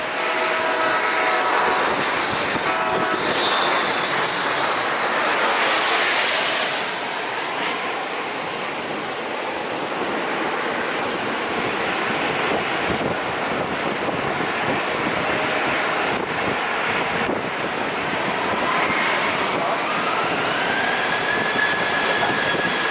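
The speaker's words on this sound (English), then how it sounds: "Okay, perfect touchdown." A fixed-wing airliner landing at San Diego International Airport gives off a loud, steady engine roar that swells early, then settles into a sustained rumble with a rising whine near the end, and no voices.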